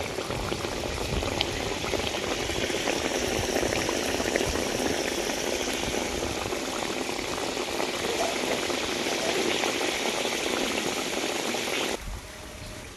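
Rui fish in a thin Bengali mustard-poppy sauce boiling in a pan, a steady close bubbling and sizzling that runs unbroken for about twelve seconds, then drops off sharply near the end.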